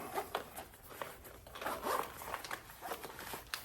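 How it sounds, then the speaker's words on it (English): An IFAK first aid kit pouch is unzipped in a series of short, close zipper rasps spread over a few seconds, fairly quiet with no talking. "Unzip it."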